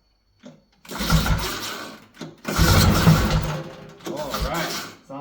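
A vintage Ski-Doo snowmobile engine cranks and fires in loud broadband bursts, catching and sputtering through three surges with brief gaps, close by.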